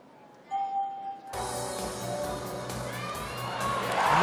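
Crowd noise in the arena at a women's gymnastics all-around competition at the 2019 Napoli Universiade, a broad murmuring swell that rises suddenly after a quiet start and builds toward the end.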